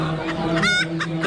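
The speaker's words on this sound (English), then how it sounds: "Little Japanese bantam." A Japanese bantam hen with chicks beneath her clucks at an Amish animal auction, giving a few short close clucks and one rising call amid a busy background.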